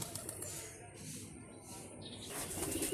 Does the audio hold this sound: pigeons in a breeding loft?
yes